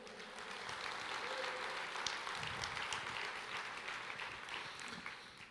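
A church congregation applauding during a sermon, a steady spread of clapping heard at moderate distance, with faint voices and a brief tone mixed in.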